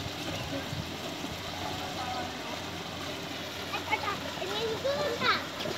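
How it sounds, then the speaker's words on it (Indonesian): A child swimming with a donut float in a pool makes soft splashes under a steady wash of water noise, with a voice and other voices heard at moderate distance. "pertama kali berenang sendiri nih, pakai pelampung donat."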